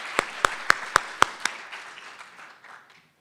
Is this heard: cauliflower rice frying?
no